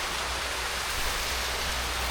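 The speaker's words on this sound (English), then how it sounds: "there's a waterfall up here" A forest waterfall gives off a steady, full rushing roar, unbroken and fairly close, with no voices.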